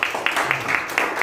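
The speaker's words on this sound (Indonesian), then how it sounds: "tepuk tangan dulu untuk Angel" A church congregation at a Sunday service briefly applauds a new drummer named Angel, a short burst of clapping from a crowd in a hall.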